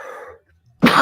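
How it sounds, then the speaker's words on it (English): A harsh, rough cough bursts in loud and close near the end, following a stretch of talk and a brief near-silent pause. "Sorry, y'all. This cough is so ugly."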